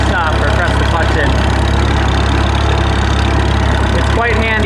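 A 1954 Farmall 300 tractor engine runs loud and close at a steady, unbroken throttle, with a strong low-pitched drone throughout.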